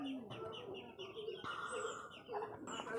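Racing pigeons in a loft coo and chirp in short soft bursts at close range, with other birds calling faintly around them.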